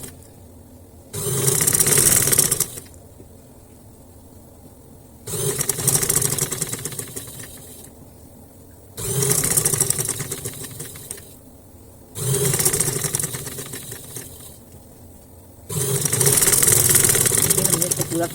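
A sewing machine stitches along the neckline edge of a velvet shirt in five loud bursts of a couple of seconds each, with quiet pauses between them, close up while someone talks.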